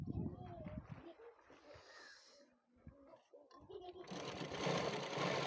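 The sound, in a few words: sewing machine stitching suit fabric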